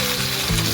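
Tomatoes and garlic cloves roasting in a pan for a radish-leaf tomato chutney give off a brief, steady, close sizzle with no talking.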